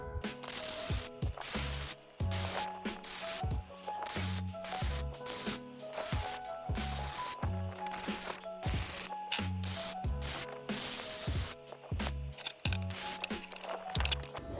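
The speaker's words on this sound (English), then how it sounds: "But first I probably gotta weld that little spacer on there." Someone welds a small spacer onto a homemade moped, producing loud, crackling bursts in a stop-start rhythm with short pauses between passes, close to the microphone and without talk.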